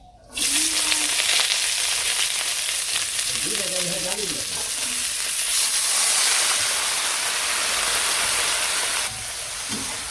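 Vegetables (stalks, eggplant, cabbage and potato strips) sizzle steadily in hot oil in a village kitchen, a loud continuous frying hiss with brief voices speaking over it now and then.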